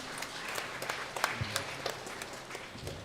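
Church congregation applauding the organizing committee during a festival celebration service at HKBP Bandung, a steady patter of many hands, fairly soft and moderately distant, lasting about three seconds.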